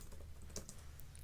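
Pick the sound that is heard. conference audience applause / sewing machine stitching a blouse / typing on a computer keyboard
typing on a computer keyboard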